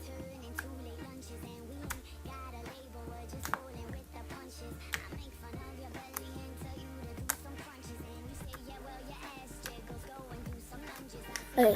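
Fluffy slime squished and pulled by hand, giving quick sticky squelches and soft pops at close range, quiet and continuous with irregular clicks.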